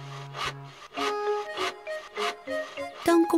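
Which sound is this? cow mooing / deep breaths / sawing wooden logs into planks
sawing wooden logs into planks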